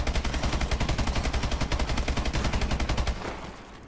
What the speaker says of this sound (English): Shotgun mode, baby.